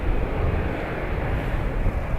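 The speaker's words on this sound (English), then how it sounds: "EI521 321 Neo in from Paris." An Airbus A321neo arriving from Paris at Dublin Airport sends a steady, broad roar of engine and rushing air. The sound is continuous and fairly loud, with wind buffeting the microphone.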